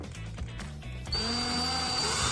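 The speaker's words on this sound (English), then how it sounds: "So we're going to have to use a normal drill motor. This is an electric drill. On a slow speed" An electric drill running on slow speed bores out a sheared engine bolt, a steady motor whine starting about halfway through and holding loud and close to the end, with clattering handling before it.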